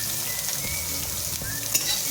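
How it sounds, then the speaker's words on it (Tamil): Onions and cumin seeds frying in sesame oil for hotel-style mutton chops, a continuous dense sizzle close by with light stirring movements, no talking. "இப்போது கொஞ்சமாக ஒரு கைப்பிடி வெங்காயம் சேர்த்துக்கிறேன்."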